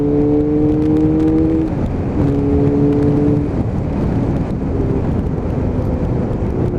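A motorcycle engine revs and drones steadily near the microphone while its cold tyres are warmed before a group ride on the A5, with wind noise over a continuous rumble.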